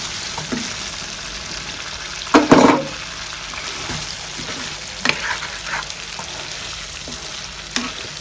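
Chicken fry sizzling in a pan as raw onions and green chillies go in, a steady close crackle broken by a few louder scraping stirs and clatters.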